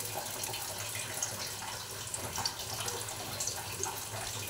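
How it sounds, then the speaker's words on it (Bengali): Paneer-and-atta lachi dough fries in hot oil, a steady broadband hiss with faint crackling pops throughout, continuous and fairly close. "এবার ভেজে নেব। তেলটা গরম হয়ে গেছে,"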